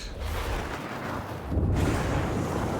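A psyker's force staff in Warhammer 40k Darktide unleashes its fiery secondary attack, a dense roaring whoosh of flame that swells louder midway and keeps burning steadily throughout.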